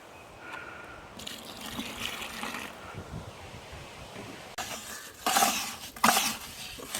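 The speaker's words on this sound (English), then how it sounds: "Of course, we got our water, and we will pour it in the mold." Water being poured into a fountain mold, a trickling, splashing flow that comes in a few bursts, the later ones louder and closer, with no talking.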